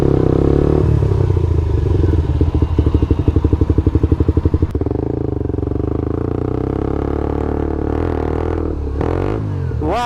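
Cold motorcycle engine struggling with no power, a loud rough rattling idle with rapid pulsing clatter that changes to a lower drone, then rising revs near the end.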